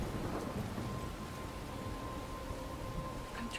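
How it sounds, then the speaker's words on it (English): Steady rain-and-storm wash from a thunderstorm in the video game Life is Strange, a dense constant roar with low rumbling and a faint sustained tone, holding at an even level for a few seconds with no talk. "I'm trapped in a storm?"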